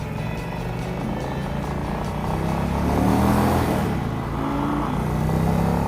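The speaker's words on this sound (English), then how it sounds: "Sounds like a proper V-twin, this thing." An Indian V-twin motorcycle engine runs and revs steadily nearby at a demo ride event, a continuous low throbbing rumble that swells slightly midway, with no speech.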